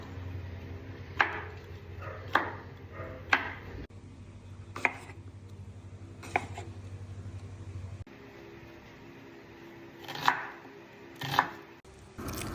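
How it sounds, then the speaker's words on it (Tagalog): A knife cuts through tomato on a cutting board for shawarma rice, sharp knocks landing at uneven intervals against a low kitchen hum, close and clear with no talk. "Alright, iwain natin ang kamatis"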